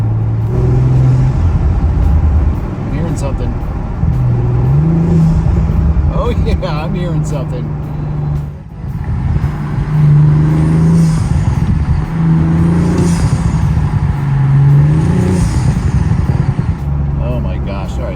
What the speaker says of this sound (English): Give it some accelerations and see what we can hear, see what we can feel.